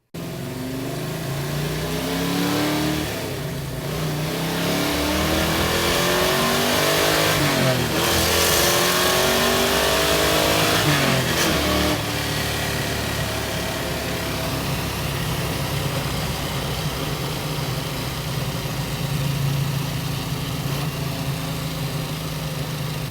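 A 1969 Camaro RS/SS drives past loudly, its engine revving up and down through several rising and falling sweeps over a constant rumble.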